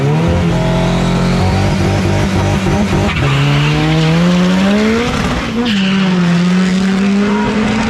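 Two front-wheel-drive cars, an Integra and an EM1, run a drag race side by side, their loud high-revving engines climbing through gear shifts with tire squeal layered over the roar, close and continuous.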